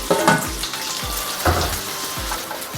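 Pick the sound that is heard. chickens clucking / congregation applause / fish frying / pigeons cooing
fish frying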